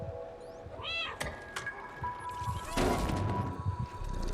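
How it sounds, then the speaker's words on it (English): A cat meows in the video game Stray: one short, rising, clear meow near the start, then thuds and a rush of game ambience with no speech. "I can meow in the cutscenes too"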